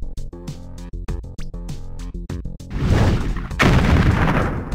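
Cannon fire booms in the Puppy Rescue Patrol cartoon game as a tank opens fire: plucky game music plays first, then loud rumbling blasts take over, with a second big boom hitting shortly after the first.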